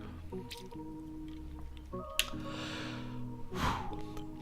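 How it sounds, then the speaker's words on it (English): A person takes a quick sip of water close to the mic, with a soft slurp, a wet swallow and a breathy exhale afterward, over a faint steady background hum. "let me get a sip of water here, get the vocal cords warmed up"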